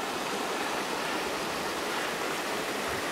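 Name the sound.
river flowing near a campsite on the Necklace Valley Trail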